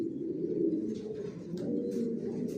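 Pigeons of a racing breed cooing in a loft, a close, soft, continuous layer of throaty coos with a few brief higher chirps, no voices.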